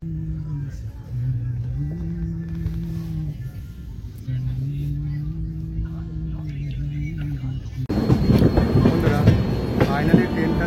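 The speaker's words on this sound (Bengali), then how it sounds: "উত্তরপ্রদেশের আমাদের দীনদয়াল উপাধ্যায় জংশনে ট্রেনটি ঢুকছে।" An Ajmer SF Express train, number 12987, rolls into Deen Dayal Upadhyaya Junction in Uttar Pradesh, with a steady low rumble and droning hum of the moving carriages, growing louder and rougher near the end.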